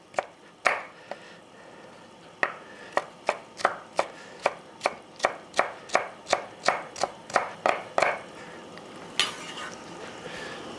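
A jalapeno pepper being chopped with a knife on a cutting board, a close run of about fifteen sharp, evenly spaced chops, then a brief pause and a few final cuts.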